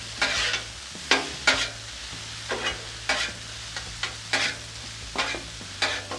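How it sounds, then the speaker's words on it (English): Garlic being stirred into onions and mushrooms on a Blackstone griddle, steady sizzling broken by about a dozen sharp spatula scrapes and taps in an uneven rhythm, close and clear. "Let's stir this garlic in."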